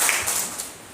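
An audience at a school award ceremony where an MLA hands cheques to meritorious students claps in a short, dense burst of applause that fades quickly, with no talk over it.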